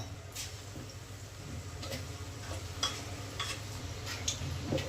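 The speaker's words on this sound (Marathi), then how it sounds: "मस्त बारीक गॅसवर असं लाल होसपर्यंत तळायचं" A soft, steady sizzle of potato fritters deep-frying in oil over a low flame, with light clicks and taps of utensils scattered throughout; no talking.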